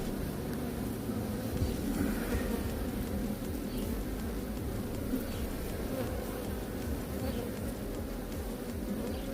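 Honey bees buzz at a hive during hive splitting, a dense continuous drone of many insects, steady and close throughout with no talk.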